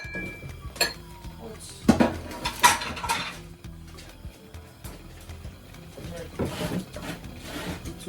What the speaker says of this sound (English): I'm going to add the stock.